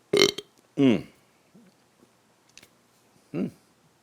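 Two short, close burps in quick succession, followed by small mouth clicks and a third burp after a pause.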